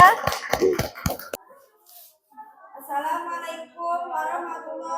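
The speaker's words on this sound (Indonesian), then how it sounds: "Tepuk tangan dulu untuk kelompok 2." A few sharp, separate hand claps from a small classroom group greet a presenting student group, then stop quickly, and a voice begins talking after a short pause.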